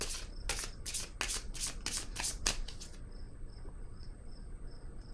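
Tarot cards are riffled and flicked in a rapid series of crisp snaps for about three seconds, then handling stops and a steady high chirping remains in the quiet background, with no talking.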